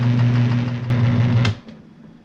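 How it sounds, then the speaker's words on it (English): A portable washing machine used as an RV laundry setup runs with a steady loud motor hum and churning for about a second and a half, then cuts off abruptly, leaving a faint quieter tail. "I'm not turning the camera, but the machine is turning."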